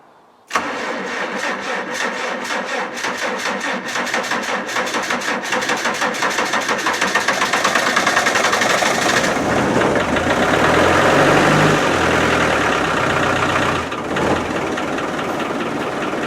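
Land Rover 110 with a 200/300 Tdi-style diesel cranking with a rapid rhythmic starter churn for several seconds, catching and revving up loudly, then settling into a close, steady diesel idle with no talk.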